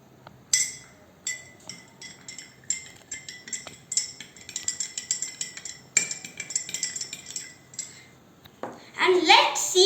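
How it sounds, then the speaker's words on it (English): Salt going into a glass of water for a kids' science experiment, with a spoon making rapid, bright clinks against the glass in irregular bursts, then a louder rattle at the end. "Let's add some salt to the other glass of water."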